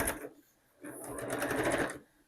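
Sewing machine running in short bursts while stitching a seam on a fabric book sleeve, a brief whir followed by a longer steady rapid stitching run, close and clear.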